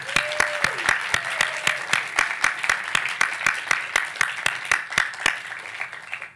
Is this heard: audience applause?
yes